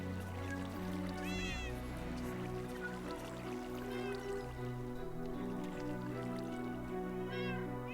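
Cats meowing in Minecraft 1.19.2 near a hardcore creeper farm, several soft high mews rising now and then over a steady bed of flowing water and game music.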